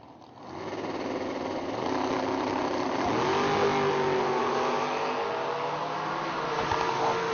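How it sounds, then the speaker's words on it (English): A 1967 Camaro and a 1968 Mustang Fastback launch in a drag race, engines swelling from quiet to a loud, sustained howl as they accelerate away. "Classic Camaro versus Mustang battle here."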